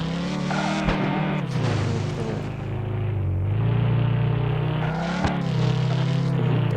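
A car in an open-world racing video game drives along, its engine revving up and dropping back through gear changes, loud and close, with no talk.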